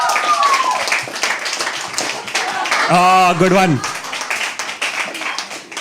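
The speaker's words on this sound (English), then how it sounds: "Can you please start clapping for Aditi?" An audience at a live poetry open mic claps for a poet, a busy scatter of hand claps running throughout, with a voice speaking over it in the middle.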